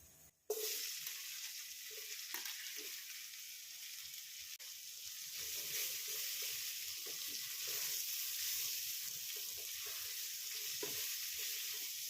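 Onions frying in hot oil with a continuous, fairly close sizzle, briefly quiet at the start, then steady crackling and occasional stirring scrapes.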